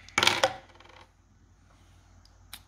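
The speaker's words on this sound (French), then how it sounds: "je vais lancer les dés" Three dice tossed onto a hard surface, landing in a loud clattering burst and rattling briefly before settling, with a faint extra tick shortly after.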